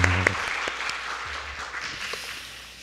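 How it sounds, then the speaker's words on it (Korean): A church congregation at a Sunday morning service gives a short burst of applause that quickly thins into scattered claps and fades within a few seconds. "우리 수고한 모든 분들 위해서 우리 격려의 박수 한번 드리도록 하겠습니다"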